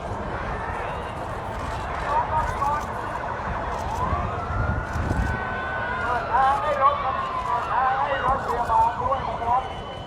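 A wailing ambulance siren rises and falls in the distance beneath steady crowd and traffic noise, with people talking throughout, during a protest march in Bangkok.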